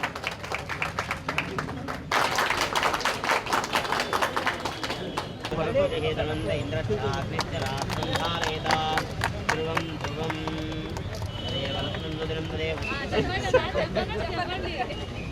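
An audience at a public event for a minister claps in sustained applause. The steady clatter of many hands is mixed with crowd babble and a voice over a loudspeaker, rising sharply after a brief lull.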